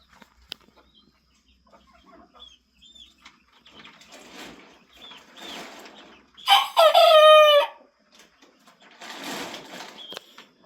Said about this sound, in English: that's Jabba, our lazy fat rooster